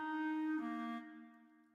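Sampled clarinet in MuseScore 4 plays a short sustained phrase in a different register, a steady reedy tone that shifts pitch slightly midway and then fades, heard alone without talk.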